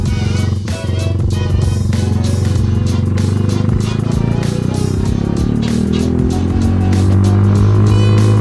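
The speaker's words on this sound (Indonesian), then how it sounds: "Ini BTW kan gue pakai knalpot racing," A Yamaha Byson motorcycle engine with a racing exhaust and BRT dualband CDI runs loud and close, a steady throaty rumble with rising revs and rough clatter throughout, and a voice talking over it.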